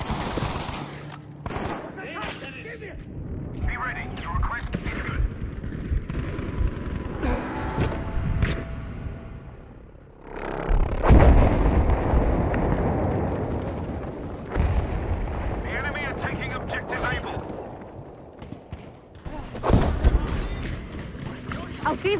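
V1 rocket air strike explosions in Battlefield V land as heavy booms, with one big blast near the middle and another later, amid bursts of rapid gunfire, footsteps and voices talking.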